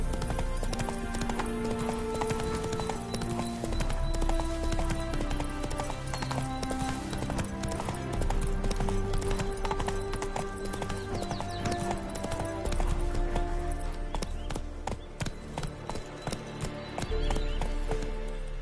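Horse hooves clip-clopping in a fast, steady gallop, loud and continuous under a swelling orchestral music bed, with a faint whinny.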